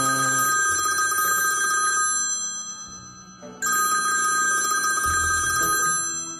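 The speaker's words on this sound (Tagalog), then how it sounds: "Kuya Alden, telepono po, hinahanap ko kayo." A telephone rings in two long electronic bursts separated by a brief pause, loud and close, with no talk over the ringing.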